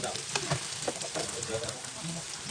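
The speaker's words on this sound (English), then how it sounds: "let's start deep frying" Lumpia Shanghai with malunggay deep frying in hot oil at medium heat, a steady, busy sizzle with crackles and pops running throughout.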